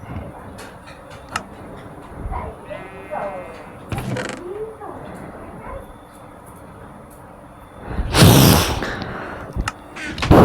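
Sheep bleating inside the video game Minecraft, short game bleats heard under steady talk, followed by a loud harsh burst of game noise near the end.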